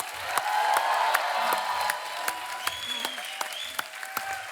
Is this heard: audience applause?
yes